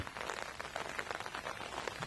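Heavy rain pouring down outdoors, a dense even hiss of drops on surfaces, fairly faint but constant throughout with no voices.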